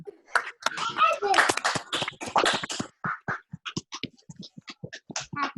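Participants in an online movie talk unmute their mics and clap for the hosts, a jumble of overlapping voices and cheers giving way to scattered individual claps, close and uneven.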